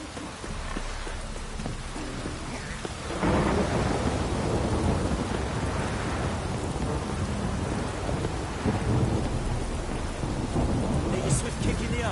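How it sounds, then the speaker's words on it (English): Heavy rain pours steadily in a video game while deep thunder rumbles and swells, growing louder after a few seconds and staying dense throughout. "This downpour's a bastard"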